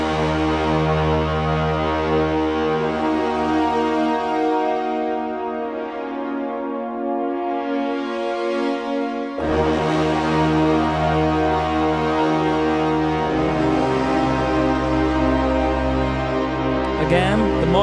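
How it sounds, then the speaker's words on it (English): A cinematic brass patch on the Halion Sonic 3 software synth plays long, loud, horn-like sustained chords that swell and shift, with its dynamics and texture controlled by the mod wheel, resembling a deep foghorn blast. "Let's go to this cinematic brass patch and let's see how it sounds."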